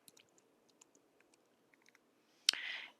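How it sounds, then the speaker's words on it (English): Faint, scattered clicks of typing on a computer keyboard, sparse and soft, ending in a brief louder click and a short burst of hiss. "I'm going to type in buttons"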